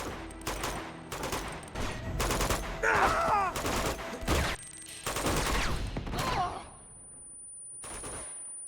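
Rapid bursts of gunfire crack repeatedly as snipers are shot in Uncharted 2: Among Thieves, loud and close, with brief gaps between volleys before the shooting stops near the end.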